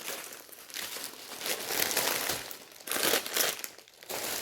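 Plastic packaging of a parcel being unwrapped, crinkling and rustling continuously in close, bright bursts with brief lulls, no voices.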